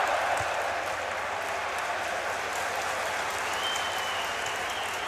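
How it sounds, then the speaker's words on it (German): A stadium crowd at a Dynamo Dresden versus Darmstadt second-division football match claps steadily, a broad, even wash of applause filling the whole stretch without pause. "da gibt es viel Applaus hier gerade für die Arbeit gegen den Ball"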